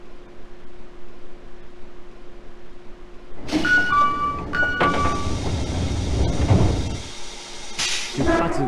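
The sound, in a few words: train departing, from a video game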